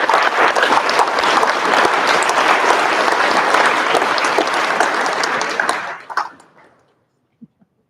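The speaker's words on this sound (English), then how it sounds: "Please join us in giving a warm round of applause for True Glimmer." Audience applause at a school awards night, a full sustained clapping from a large crowd that holds steady, then tapers quickly and dies into silence, with a couple of faint knocks afterward.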